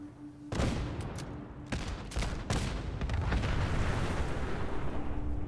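A deep, rumbling explosion in the video game Fallout 4 bursts in, followed by a string of further blasts and crackling debris that roll on loudly to the end.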